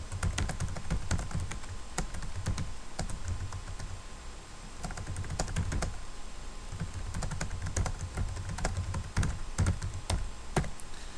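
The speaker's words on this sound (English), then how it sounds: "If I want to add a new one, I'll just type it in here." Typing on a computer keyboard: a steady stream of close, clicky keystrokes with irregular rhythm and a few heavier thunks, continuing without pause and with no talking.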